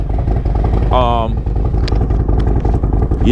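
A motorcycle engine runs steadily at riding speed with a continuous low rumble, close and loud, as a brief whistle-like tone and a voice come through over it.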